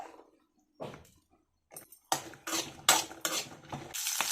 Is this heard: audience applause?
no